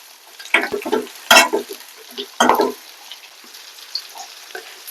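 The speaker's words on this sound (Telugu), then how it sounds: "చిట్టపట్టలాడ నుంచి కలుపుకుంటే బాగా దోరగా నూనెలో ఇట్లా చిట్టపట్టలాడ నుంచి కలుపుకుంటా ఉంటే దోరగా తాలింపులో వేగుద్ది" Tempering of green chillies, onion and curry leaves crackling in hot oil as it is stirred, with loud bursts of scraping and sizzle between quieter spattering, close up, no talk.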